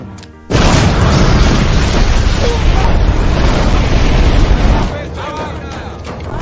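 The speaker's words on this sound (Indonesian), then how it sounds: "mereka meledakkan bom yang membuat jerigen berisi minyak di sana meledak" A loud boom bursts in suddenly as a bomb sets off jerrycans of oil, followed by a sustained roaring blast and rumble that lingers for several seconds before easing off.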